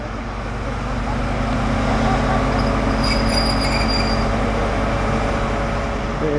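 A train pulls out of a station heading to Ealing Broadway, a broad, steady rumble of wheels and motors that swells slightly as it moves off, with a brief high squeal partway through.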